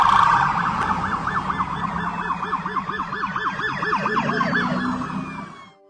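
Sheriff's deputies' police sirens wailing in rapid, overlapping oscillating tones as patrol vehicles rush to a shooting scene, loud and continuous, with several sirens layered against each other before cutting off at the end.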